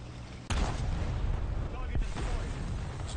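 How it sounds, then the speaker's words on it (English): A single sharp boom from an explosion in War Thunder, hitting suddenly and then rumbling on. A second, fainter thud follows about a second and a half later. "It's a nice explosion"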